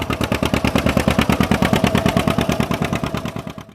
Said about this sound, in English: the characteristic pop-pop sound of the two-cylinder engine